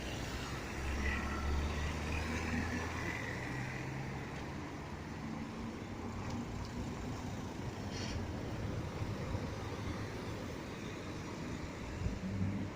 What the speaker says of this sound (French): À chaque fois qu'il y a une voiture qui passe comme ça derrière moi, ça me fait toujours peur.